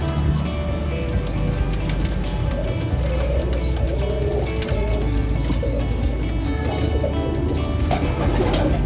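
Pigeons coo steadily and close by in a loft where a Giri Teddy female pigeon is being shown for cross pairing, with soft chirps and occasional wing flutters over a constant background hum.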